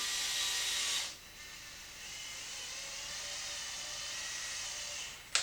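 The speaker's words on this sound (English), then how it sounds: "It's a pretty neat little screwdriver, right?" A small handheld electric screwdriver whirs steadily while driving screws into an XMaxx RC truck during rear differential removal, with a loud burst at the start, a slower lower-pitched run through the middle, and a brief spike at the end.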